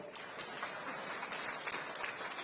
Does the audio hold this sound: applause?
yes